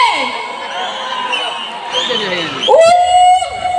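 A crowd at a stage program whoops and shouts, rising to a loud sustained cheer near the end, with a high piercing whistle-like yell standing out over the noise.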